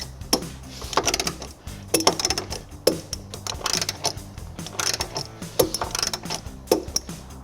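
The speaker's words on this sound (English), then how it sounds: "Next, we'll tighten and torque the bolts going into the body using a 3/4 socket." A ratchet with a 3/4 socket tightens the bolts of a U-Haul removable receiver hitch on a 2023 Toyota Sienna, producing rapid bursts of metallic clicking in a steady back-and-forth rhythm, close up and alone.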